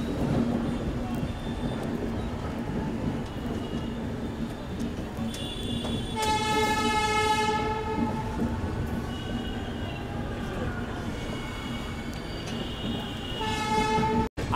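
Humsafar Express pulling out of Gaya station, with a steady rumble of wheels and carriages, repeated high metallic wheel squeals, and a faint voice in the background.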